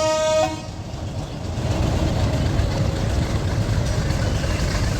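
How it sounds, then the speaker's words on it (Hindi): A heritage train locomotive on the Patalpani–Kalakund line, uncoupled from its carriages, gives a brief horn toot at the start, then its engine idles with a steady low rumble that fills the rest of the clip, close and fairly loud. "ये ट्रेन से अलग हो गया हमारा इंजन।"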